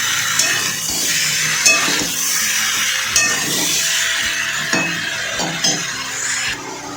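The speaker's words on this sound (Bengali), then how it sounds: "শুধু একটু নুন, আদা আর টমেটো দিয়ে একটুখানি কষে নিচ্ছি" Pointed gourd being sautéed with salt, ginger and tomato gives a soft, steady sizzle with scraping stirs and the odd clink of a utensil against the pan throughout.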